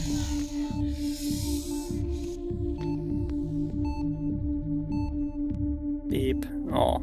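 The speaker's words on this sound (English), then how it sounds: "Stop beeping at me." A heart rate monitor in a game beeps in a steady repeating pattern of short tones over a constant hum, then a brief burst of noise near the end.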